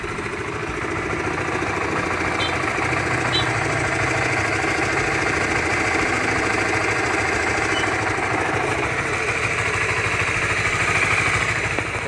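A one-year-old Honda Supra GTR 150 motorcycle idling close by, its steady loud engine drone carrying a faint rapid rattle from the cam chain tensioner, continuous throughout with no pauses.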